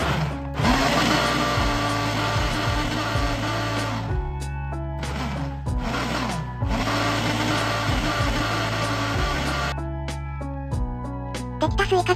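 A kitchen blender whirs through the remaining watermelon for juice, running loudly in long pulses separated by short pauses, with the motor pitch shifting as the fruit is chopped.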